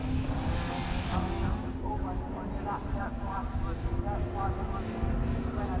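A Renault Twingo rallycross car races at Pembrey, its engine droning loudly and steadily as it revs through the laps, with a commentator talking continuously over it.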